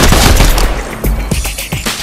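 Mythic AR assault rifle firing in Fortnite Chapter 5, loud close bursts of rapid automatic shots, short strings of punchy cracks separated by brief pauses.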